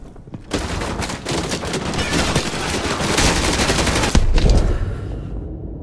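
Call of Duty Modern Warfare 2 Remastered battle, with dense sustained automatic gunfire roaring nonstop for several seconds, loud and close, with sharper cracks near the end before it cuts off.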